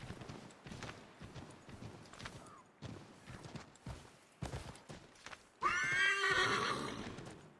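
A horse in Assassin's Creed 3 Remastered clip-clops along in a fast gallop, with a loud, close whinny bursting out toward the end.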